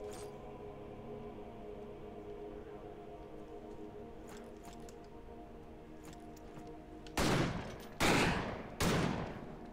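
Rifle fire in the video game Victor Vran comes as three loud, separate blasts near the end, over a steady droning game soundtrack.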